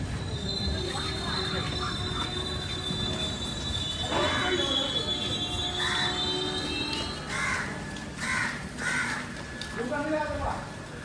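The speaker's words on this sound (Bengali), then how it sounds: "আর ওই দিক দিয়ে কোনো ট্রেন ক্রসিংয়ের জন্য আসছে।" A train approaching Thakurganj station in Bihar for a crossing, with a sustained high wheel squeal and rumbling rail noise throughout, crows cawing in bursts nearby and people talking in the background.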